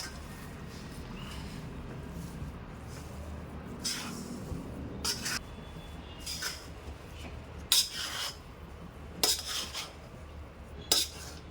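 Edible gum is stirred into a mixture in a pan for gund pak, a sweet: close, scattered metallic clinks and scrapes of a utensil against the pan over a soft background, with no voices.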